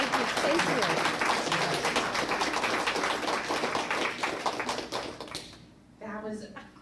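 An audience at a senior center applauds after a strudel presentation, a close, dense patter of clapping that fades out before a voice starts speaking at the end.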